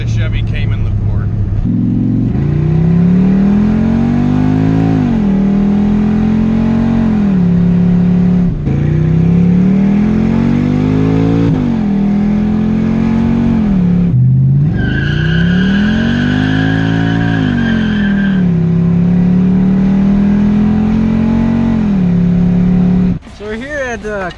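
A budget-built turbo LS-swapped Ford Mustang drives past loudly, engine droning and rising through repeated revs and gear changes with tire squeal, then cuts off abruptly at the end.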